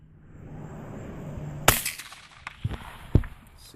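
A .22 rifle fires CCI Mini Mag ammunition, giving one sharp, fairly quiet crack followed by a few softer knocks and clicks.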